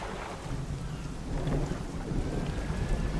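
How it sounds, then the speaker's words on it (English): A stormy sea in the fishing game DREDGE brings a low rumble of thunder rolling under steady rain hiss, building slightly louder partway through with no talking. "Oh man, a storm's coming."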